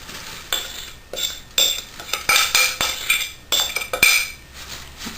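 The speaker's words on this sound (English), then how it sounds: "I just spread it out evenly and press down with the back of the spoon." A metal spoon scraping and pressing a raw crust into a greased baking pan for chocolate raspberry layer bars, close and crisp, in a series of irregular clinks and scrapes with no talk.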